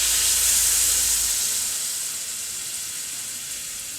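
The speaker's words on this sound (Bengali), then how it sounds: "এবার এর মধ্যে উষ্ণ গরম জল দিয়ে দিচ্ছে।" Warm water is poured into a pan of frying drumstick vegetables for a vegetarian curry, setting off a loud hissing sizzle that gradually settles and fades, close up with no talking.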